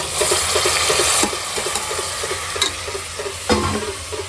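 Tomatoes tip into a pan of frying mint, sizzling steadily while a spoon stirs and scrapes in short bursts, with a few louder clinks near the end; no one speaks.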